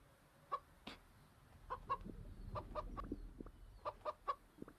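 A video game chicken clucks in short, sharp, bright bursts scattered irregularly across a faint background, some notes doubled, with no speech.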